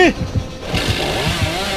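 In the horror video game Dead by Daylight, a chainsaw revs with a rough, pulsing engine drone that keeps going steadily. It sounds fairly loud and close, with a voice heard briefly at the start.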